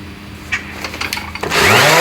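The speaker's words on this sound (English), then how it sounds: "I've just got it on an 80 grit pad, and I just want to get rid of the wood glue" An electric power sander with an 80 grit pad works wooden toy chest panels to strip old wood glue, starting with a few short buzzing bursts before settling into a loud continuous whine.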